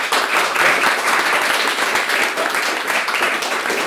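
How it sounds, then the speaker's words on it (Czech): A short burst of steady audience applause at a freelancers' talk event, dense clapping holding level for a few seconds with no speech. "Prosím o potlesk pro Petru."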